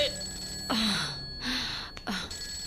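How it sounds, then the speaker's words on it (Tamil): A telephone rings in a room in a Tamil film comedy scene, with an electronic trill beginning at the start and recurring in short bursts several times over a quiet background. "அந்த போன் எடுத்து தொலைங்க. எவ்வளவு நேரமா அடிக்குது?"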